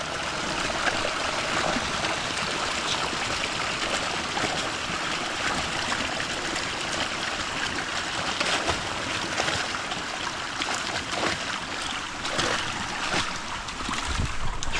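Water pours steadily out of a drain pipe from a fishpond, a continuous broadband rush and splash that holds at the same level throughout with no voices.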